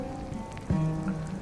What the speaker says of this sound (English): so it's still bloody raining